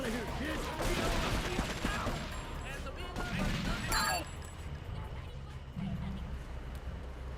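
Gunfire in the video game GTA III: bursts of shots and clattering impacts in a street shootout with Triad members, busy at first, then thinning out.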